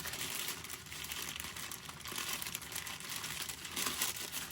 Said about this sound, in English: the sound of crinkling plastic